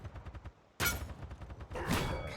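Gunfire in the Paladins video game: a soft patter of shots, then two loud rapid bursts close by.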